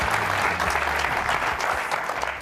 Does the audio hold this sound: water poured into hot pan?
no